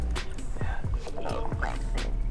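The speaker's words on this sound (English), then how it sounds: "They're barking." Dogs barking during a night fishing outing, a few short yelps and barks heard at a distance over a steady low rumble of background noise.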